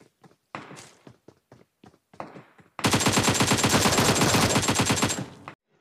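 Gunfire in PUBG Mobile from a Mini-14 rifle and other weapons: scattered single sharp shots and thuds, then a loud, dense, rapid continuous burst of fire lasting over two seconds before stopping abruptly.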